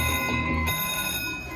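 A casino slot machine playing a bell-themed game rings out bright, ringing bell chimes right after a line hit during $10 spins, loud and close with a sustained electronic jingle and no talking.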